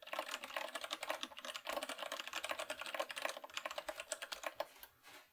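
Rapid keystrokes on a computer keyboard, close and continuous, with a brief pause near the middle before the tapping trails off at the end.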